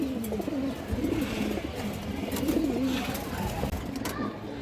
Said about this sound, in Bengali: একজোড়া হাই কোয়ালিটি কৌতর আছে